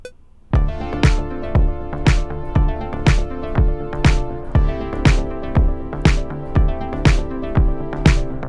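A steady programmed drum beat whose sharp snare hits are layered with a synthesized clap, repeating evenly for several bars over a kick, loud and up front.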